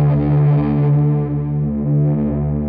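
Electric guitar playing sustained octave notes as a swelling pad, run through a guitar amp with reverb washing it out; a loud, continuous, smoothly droning tone with no talking.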